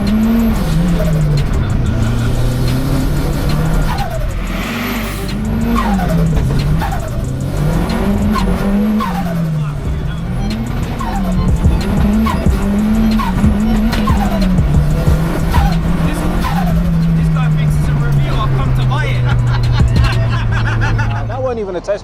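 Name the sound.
Ford Fiesta RS Turbo Mark III accelerating hard on test drive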